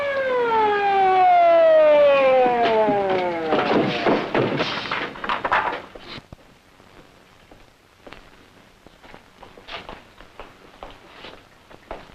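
A police car siren wails loud and close, its pitch sweeping down in long falling tones for about six seconds before cutting off, followed by quiet scattered thumps and footsteps.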